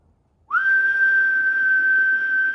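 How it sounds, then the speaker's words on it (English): A single sustained blown whistle starts abruptly after a moment of near silence and holds one steady, piercing pitch to the end. "Now watch, I'm going to whistle"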